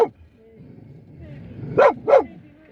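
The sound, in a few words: dog barking at cattle statues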